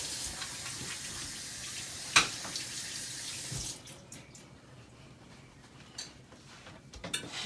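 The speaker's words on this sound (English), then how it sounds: "Whenever you mess with eggs or get them on your hands, you always want to wash your hands afterwards." Tap water runs steadily into a kitchen sink while hands are washed after handling raw eggs, then the flow drops off into lighter splashes and trickles near the end.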